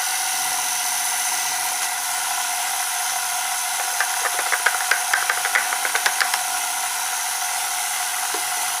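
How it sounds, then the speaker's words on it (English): Stand mixer fitted with a paddle attachment beating chocolate chunk cookie dough, a steady whirring motor hum with a cluster of rhythmic clacking knocks through the middle, no talking. "Now I'll start beating everything together until your cookie dough forms."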